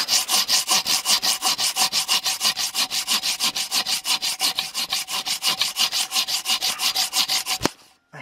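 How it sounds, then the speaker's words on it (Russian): Hand saw cutting through a wooden stump used for growing oyster mushrooms, a steady, fast back-and-forth rasp of about forty close strokes that ends abruptly near the close, with no talking. "И ножовочкой отрезаем."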